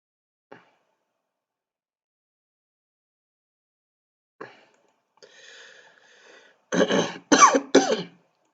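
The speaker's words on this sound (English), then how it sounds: "I'm sorry, I'm having cough." After long silence and a few faint clicks and throat sounds, three sharp, loud coughs burst out close by in quick succession.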